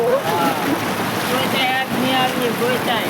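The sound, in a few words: rushing floodwater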